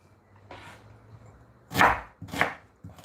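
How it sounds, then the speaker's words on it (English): Knife chopping onions on a board while a coconut curry soup is being prepared, heard as a few sharp, fairly close cuts in an irregular rhythm after a quiet start, with no talking. "Okay, so chop onions."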